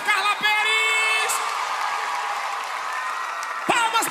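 A live concert crowd claps and cheers, a thick steady roar of applause with high whistles and whoops, loud and continuous, punctuated near the end by a shouting voice.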